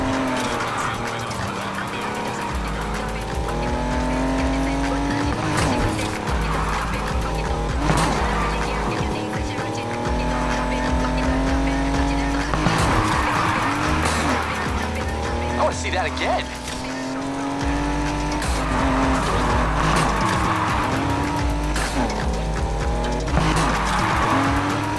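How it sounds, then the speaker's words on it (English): A car drifts in the video game NFS Heat, the engine revving and wailing continuously with long tire squeals rising and falling across repeated slides. "Textbook drift."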